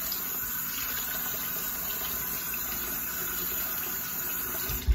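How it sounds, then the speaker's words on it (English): Cold water runs steadily from a tap, a continuous even hiss of flow with a small clatter at the very end, close and moderately quiet with no talk. "you turn the water on, cold, and you just wet your face with it."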